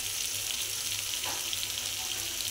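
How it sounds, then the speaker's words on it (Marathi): Cauliflower and potato frying in oil give a steady, loud, close sizzle that continues without a break, with no voices. "ती पण छान तेलात अशी भाजून घ्यायची."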